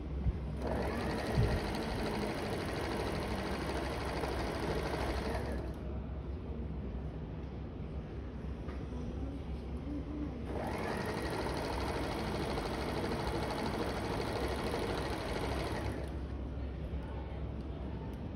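A sewing machine stitches a lay-flat collar in long, steady runs of fast, even mechanical humming, with a short slower stretch between runs, close by under faint room noise.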